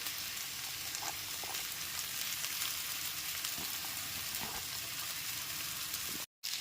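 Boiled chowmein noodles go into a pan of frying vegetables, and a dense, steady sizzle and crackle of hot oil carries on for several seconds, close and even, with no voices and a brief dropout near the end.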